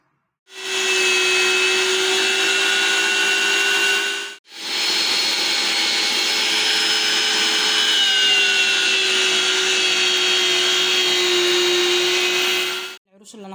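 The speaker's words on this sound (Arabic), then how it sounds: "العروش اللي انا فرمتها مع الشطه الحمراء" Garlic stalks and red chili peppers being minced give a loud, steady electric motor whir close by, running in two long stretches separated by a brief stop.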